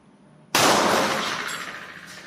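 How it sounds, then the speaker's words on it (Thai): A single sharp 9mm shot from a CZ75 pistol, fired one-handed at a bottle about five metres away outdoors, cracks loudly after a quiet moment and then rings off in a long fading echo. "ก็จะมาลองยิงมือเดียวนะครับ ยิงด้วยมือซ้ายก่อนนะครับ"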